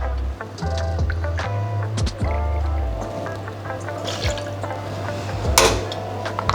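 White rum being poured into a cocktail shaker while making a piña colada, with close liquid trickling and splashing, small clinks of glass and metal, and a steady low hum in the background.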